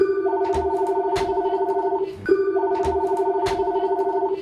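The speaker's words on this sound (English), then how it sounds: "Every 30 seconds the phone rings." At a busy used car dealership, a desk telephone rings insistently in two long electronic trills with a brief gap between them, loud and near.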